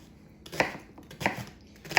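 A knife chops food on a board in a few separate, moderately close strokes, spaced irregularly over a quiet background.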